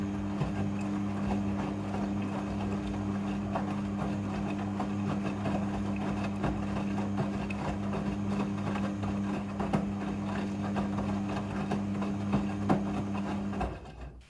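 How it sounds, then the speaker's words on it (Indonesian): A washing machine runs its water rinse cycle, filling automatically: a steady low motor hum under continuous rushing, splashing water that holds even for the whole stretch and stops abruptly near the end, with no voices. "Pada proses pembilasan dengan air, mesin cuci akan mengatur jumlah kebutuhan air secara otomatis."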